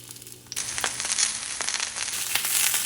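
Pork for Colombian arepas de queso with chorizo sizzles in a hot pan, a dense, loud crackle and spatter that jumps up abruptly and keeps up with scattered sharp pops.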